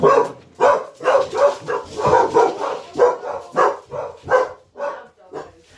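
A pet dog whines for attention indoors with its head resting on its owner's lap, giving a run of repeated high, nasal whimpers and yips in an uneven rhythm, close and fairly loud.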